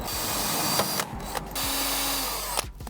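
A power drill runs steadily with brief pauses and restarts, its whine loud and close throughout.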